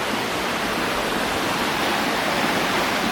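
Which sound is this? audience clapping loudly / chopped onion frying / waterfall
waterfall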